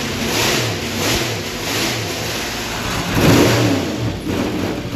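An alcohol-burning big-block Chevy engine on a dyno revs repeatedly in rising and falling surges, loud and close, with a throaty rumble swelling near the end.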